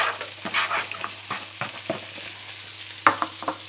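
Onions frying in a few spoonfuls of olive oil over heat, with a soft steady sizzle and scattered clicks and scrapes of stirring, moderately close and with no talk.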